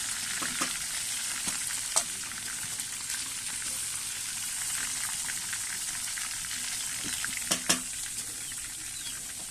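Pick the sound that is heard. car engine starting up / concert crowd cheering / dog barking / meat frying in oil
meat frying in oil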